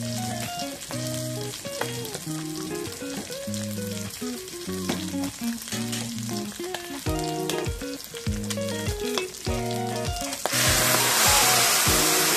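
Meat sizzling and frying with turmeric in a pan for a home-style Assamese chicken and fish dish, a steady loud crackle running throughout with stirring scrapes and a hotter burst of spitting near the end.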